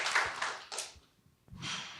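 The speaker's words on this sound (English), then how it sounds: "Yeah, we can clap for that." Short bursts of audience applause at a TV festival panel, two clusters of clapping separated by a brief lull before a third swell, fairly close and moderately loud.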